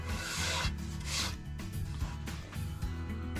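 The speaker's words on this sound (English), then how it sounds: "we're just gonna soften it with the palm sander" A palm sander rubs and rasps against the edge of a wooden headboard, rounding it over in close, loud strokes with short pauses between passes.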